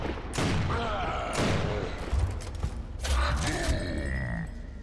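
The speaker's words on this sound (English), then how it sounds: "I'll try and get him with a bolt-up pistol." Boltok pistol fired at a Titan during a Gears of War battle, heavy booming shots and mechanical clanks layered through dense game noise, loud and continuous over nearly five seconds.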